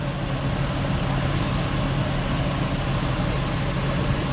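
A car engine runs steadily in gear during an oil change, a continuous low rumble with an even drone, close and moderately loud with no break.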